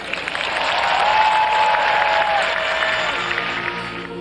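A large crowd of faithful applauds after a message from the Pope: a dense, sustained wash of clapping and crowd noise that holds steady at full strength throughout, with no clear voices above it.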